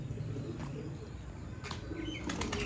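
Colonel breed pigeons flap their wings in a loft after feeding, a few soft bursts of flapping over a steady low background with faint cooing.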